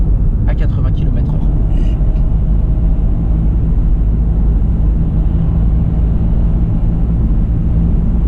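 A driving-school car engine on a road near Gex accelerates and shifts into fifth gear, heard from inside the car as a loud, steady low rumble with road noise.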